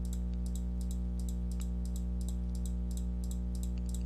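Rapid computer mouse or key clicks in short bursts over a loud steady electrical hum, fairly close and rhythmic.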